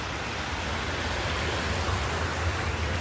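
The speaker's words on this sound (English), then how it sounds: "Then it runs down the waterfall" Water spills down a small waterfall into a pond fed by a pipe in Seminole County, Florida, a steady soft rushing and splashing heard moderately close and alone.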